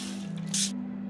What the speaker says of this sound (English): Spray the doughs with water.